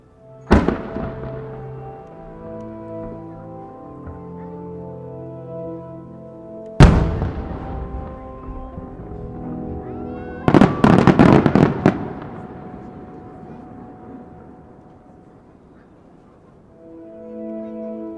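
Large chrysanthemum fireworks, a thousand-ring shell with rising tails, boom several times at Twin Ring Motegi, Japan, each followed by a long crackling, sizzling shower that fades away into the distance.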